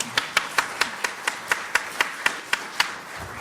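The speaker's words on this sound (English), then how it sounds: "let's give them a round of applause" Listeners at a talk on retirement travel clap in a steady, evenly spaced rhythm of about a dozen crisp claps, sounding like only a few close hands, without speech.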